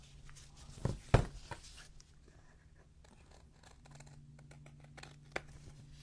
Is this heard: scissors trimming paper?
yes